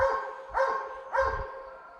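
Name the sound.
hunting dogs barking at a wild boar at bay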